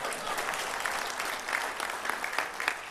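Audience applause at a political speech event, a steady wash of many hands clapping for about three seconds, moderately loud and continuous without any talking on top.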